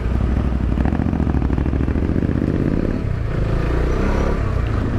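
A Bajaj Dominar 250 motorcycle rides through city streets with a steady, loud engine drone, a brief dip and then a pickup as the rider shifts gears, with no talking.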